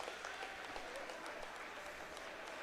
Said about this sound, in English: We got people cheering her on, coming down the home stretch